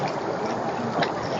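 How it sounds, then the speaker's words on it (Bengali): A flowing river current rushes steadily nearby, a dense broadband wash of moving water with no talk over it. "এই যে পানির স্রোত এই জায়গায়"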